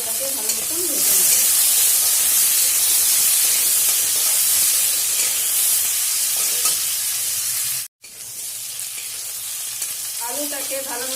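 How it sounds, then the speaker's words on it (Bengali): Potatoes fry in a pan with a steady loud sizzle and hiss for several seconds, broken by a brief dropout and occasional faint stirring clinks, then the sizzle continues. "এখন আলুটাকে ভালো মতন ভেজে নেব।"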